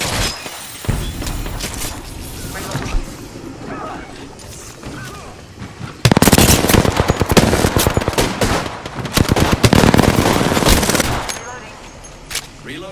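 Rapid automatic gunfire from an Apex Legends match comes in bursts, with loud, dense volleys in the second half and sharp crashes and impacts mixed in, close and intense.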